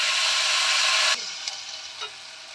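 Onion and potato frying in oil with nigella seeds, a loud bright sizzle that abruptly quiets after about a second, followed by a few soft clinks and stirring scrapes.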